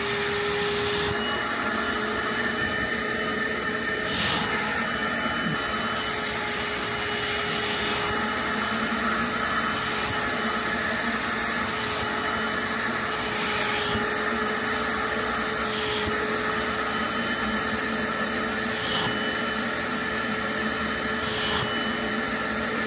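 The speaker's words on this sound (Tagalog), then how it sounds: "meron tayong wet vacuum. Pro Heat Turbo Brush." A Pro Heat Turbo Brush wet vacuum cleaner runs with a steady, loud motor whine and broadband airflow roar that holds continuously throughout, with occasional brief bursts of brushing or suction noise and no speech.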